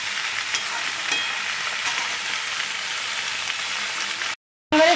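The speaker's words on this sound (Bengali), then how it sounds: "একটু হালকা ভেজে নেবো" Malabar spinach and mixed vegetables fry in a pan with a steady, close sizzling hiss that runs unbroken until a sudden cut near the end.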